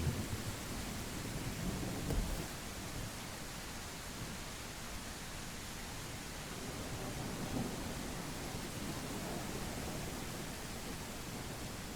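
Steady rain falling in woods in a video game, a dense, even wash of noise with a faint low rumble, heard alone and fairly quiet throughout.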